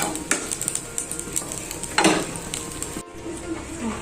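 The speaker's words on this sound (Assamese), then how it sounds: "আৰু এইফালে বনাইছো পেটু ভাজি" Fish belly frying in a pan in a home kitchen, with steady crackle and clinks and scrapes of a utensil against the pan, one louder stir or flip midway, no talk over it.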